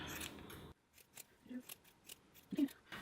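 Scissors give craft material a quick trim, a few faint, crisp snips spread over a quiet few seconds with soft handling noise between cuts.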